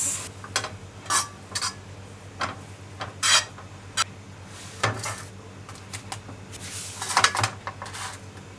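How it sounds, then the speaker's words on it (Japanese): Butter goes into a frying pan and the stove is lit while making curry bread: a run of sharp metallic clinks and clacks of pan and utensils, scattered and fairly close, with a quiet hum underneath. "バターをフライパンに入れて火をつけます。"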